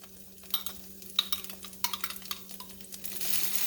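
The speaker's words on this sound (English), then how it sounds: "we are going to add about a tablespoon of garlic, minced garlic" A tablespoon of minced garlic hits a hot pan, quickly followed by a rapid run of crackling sizzle and utensil clicks that swells into a steady hiss, close up and with no voices.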